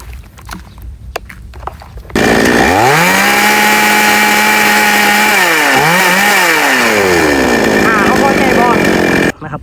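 A small chainsaw engine runs at a loud, steady high rev while its carburetor fuel mixture is tuned, the pitch dipping and climbing briefly mid-run before cutting off; someone speaks before it starts.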